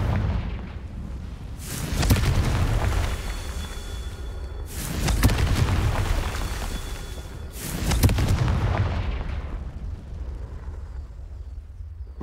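Confringo blasting spells in the wizarding action game Hogwarts Legacy: three booming explosions about three seconds apart, each a sharp burst with a rolling low rumble that fades slowly.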